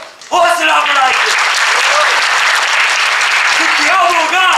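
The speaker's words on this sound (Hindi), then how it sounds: "तालियां बजाइए, हौसला बढ़ाइए" Loud, sustained audience applause greets a street play, many hands clapping steadily while performers' voices sing or call out over the start and end.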